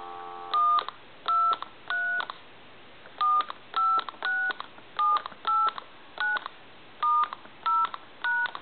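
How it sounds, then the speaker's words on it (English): Dial tones from a CA67 military telephone, a clear series of short beeping DTMF tones in uneven groups of two and three presses, close and loud against a quiet line hiss with no talking. "So we'll go ahead and dial some numbers now."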